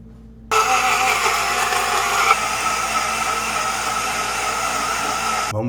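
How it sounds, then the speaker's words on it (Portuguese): A large home blender whirs steadily through a thick cashew mixture for a plain vegan cheese, starting abruptly and running loud and constant with a slight strain, no voices over it. "no meu liquidificador aqui enorme, ele ficou um pouco empacado já para bater"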